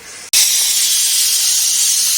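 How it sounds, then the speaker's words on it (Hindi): A pressure cooker in a camper van lets out its whistle, a sudden loud, close hiss of escaping steam that starts abruptly and holds steady without pause. "कुकर ने अपनी आखिरी सीटी दे दी है।"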